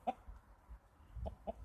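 Chickens in a backyard flock give a few soft clucks, spaced irregularly and fairly faint, over low outdoor background.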